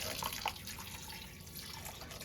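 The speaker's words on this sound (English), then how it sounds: "now we're gonna put water in. I'm gonna put 4 cups of water in." Water poured into a crockpot while cooking at home, a steady faint trickling and splashing stream with a few brighter drips near the start, no talk.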